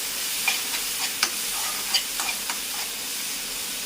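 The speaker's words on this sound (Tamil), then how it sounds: "அடுத்தது தக்காளி எல்லாம் போட்டாச்சு தக்காளி ரொம்ப வதங்க விட வேண்டாம்" Ginger and tomatoes sautéing in a pan for a curd curry lunch, giving a steady soft sizzle with scattered light stirring clicks and spatula taps, fairly close, with no voices.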